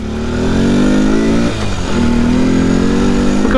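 A Honda MD90 motorcycle, a small three-speed bike, revs up loud and close, climbing in pitch, dipping briefly at a gear change, then rising again.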